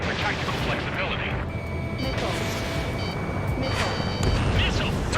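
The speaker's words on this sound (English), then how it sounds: "They've got their anti-air guns aimed right at us." Anti-air gunfire from ground guns in Ace Combat 7, a dense continuous rumble of distant firing and explosions under aircraft noise, with voices and radio chatter over it.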